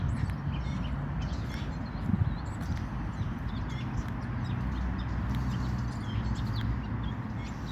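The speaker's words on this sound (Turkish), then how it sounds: "Evet ağaçta kuşlar" Birds chirp in the trees of a city park, light scattered calls over a constant outdoor background rumble that runs throughout.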